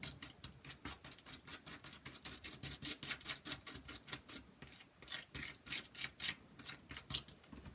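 A brush drags paint across a gritty, sand-like textured surface in a process painting. It makes a quiet, close, rhythmic scratchy rasping of repeated back-and-forth strokes with no pauses.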